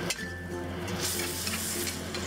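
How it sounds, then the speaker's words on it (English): Sauce simmering in a wok with tofu, snow peas and oyster mushrooms, a steady soft sizzle and bubbling with light stirring scrapes and an occasional clink of utensil on pan, close and continuous. "Let this come to a simmer."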